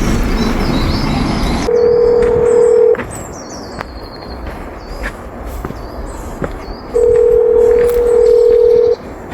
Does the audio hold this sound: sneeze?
no